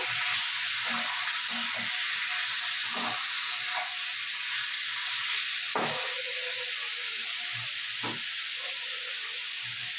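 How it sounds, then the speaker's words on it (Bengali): Cauliflower coated in yogurt, salt and turmeric frying in a pan, a steady loud sizzle and hiss throughout with occasional soft clinks and stirring knocks, no talking. "এই যে দই দিয়ে নুন আর হলুদ দিয়ে মাখিয়ে ভাজতে বসিয়েছি, হালকা মতো ভেজে নেবো"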